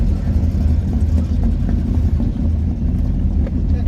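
A Pontiac GTO on an autocross run at a GoodGuys event. Its engine gives a loud, steady low rumble from close by, with a slightly uneven throb, and a voice is heard over it.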